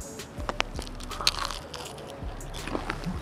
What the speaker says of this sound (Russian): И она такая, прям хрустит.